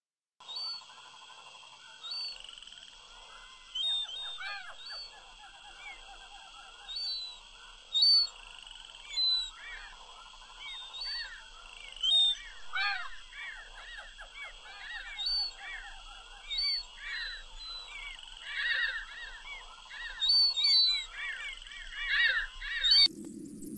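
Seagulls in a Unity game running on Windows 98, a crowded chorus of repeated squawking gull calls over a steady electronic hum, continuous and overlapping, ending with a sudden cut.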